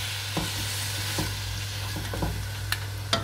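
Food being mixed in a pan with pasta sauce, a low steady sizzle under a few soft scraping strokes and a couple of sharper clinks near the end, no voices.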